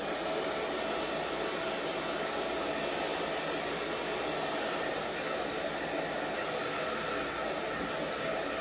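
A hair dryer blows steadily on a glittery purple craft project, a constant loud whooshing hum with no breaks from start to finish.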